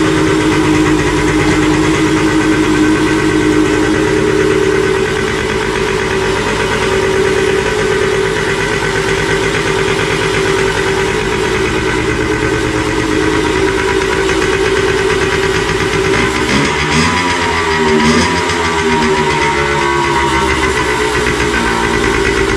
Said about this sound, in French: Voilà, comme tu peux voir, ça démarre.